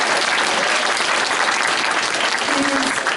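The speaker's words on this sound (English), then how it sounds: "So please give yourselves a round of applause for that." Thick, continuous applause from a crowd at a political campaign speech in Charlotte, North Carolina, loud and even throughout with a faint voice emerging near the end.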